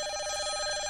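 A telephone rings with a steady, bright, continuous electronic trill, loud and alone, from a cartoon business scene.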